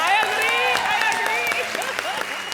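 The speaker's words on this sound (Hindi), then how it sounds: "तालियां भैया" Studio audience applauds Dharmendra on a comedy show set, steady clapping throughout with music or sustained tones layered over it, loud and close.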